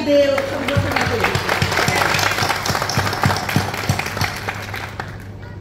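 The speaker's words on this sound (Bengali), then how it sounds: "আসুন আমরা তাকে জোরে করতালি দিয়ে সম্বোধনা করি" Applause at a political gathering in Manikganj, with distinct hand claps rising over a crowd murmur; a voice talks over the start before the clapping settles and fades.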